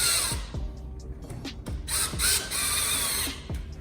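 A ratchet wrench tightening two 10mm bolts on the front bumper of a 2009-2013 Toyota Corolla gives rapid, close clicking bursts in quick repeated strokes, with no talk.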